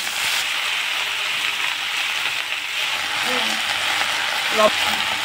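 Red amaranth greens frying in hot oil give a steady, close sizzling hiss throughout, with a few faint utensil knocks near the end.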